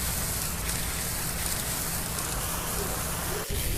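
Heavy rain pours onto a muddy red clay road under construction, a dense, unbroken hiss at close range with one brief dip near the end.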